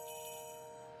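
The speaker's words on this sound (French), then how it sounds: "C'est le camion du marchand de glace qui produit ce bruit de cloche" An ice cream truck's bell chimes in a steady, sustained ringing tone, fairly faint and heard alone without voices.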